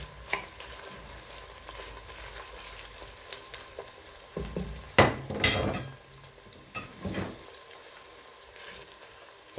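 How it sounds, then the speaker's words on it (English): Two large onions dropped into heated olive oil in a pan, steady sizzling frying with bursts of stirring and scraping against the pan, close and moderately loud. "2 large onions. Let's put that into our heated olive oil."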